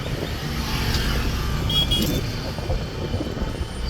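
A manual car's engine idling and lightly loaded while the clutch is pressed and the gear lever is shifted to neutral during a driving lesson, a steady low rumble with a brief rise near the middle.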